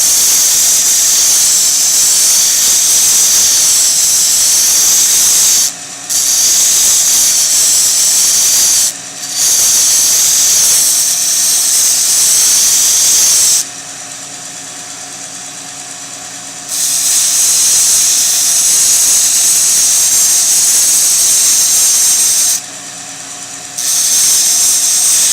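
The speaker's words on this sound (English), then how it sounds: "we're going to just take this fire steel along here and smooth out and get rid of all those ridges" Ferro rod fire steel ground on a worn sanding belt: a loud, steady high-pitched hiss and grinding rasp in long passes, broken by a few short pauses and one longer gap, with no talk.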